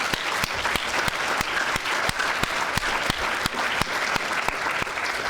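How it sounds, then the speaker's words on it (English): Steady applause fills a hall at a student union awards night, a continuous crowd clapping with a few sharper, closer claps standing out at a regular pace. "So a round of applause, please."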